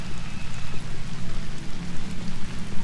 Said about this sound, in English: It's starting to rain now, too.